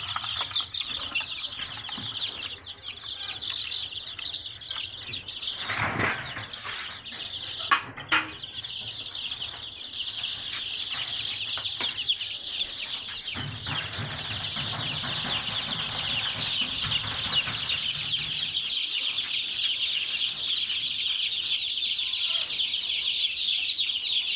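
Large-breed roosters of about 4 kg and hens of 3 to 3.5 kg cluck and call steadily on a poultry farm, with a brief burst of wing flapping amid the continuous close flock chatter.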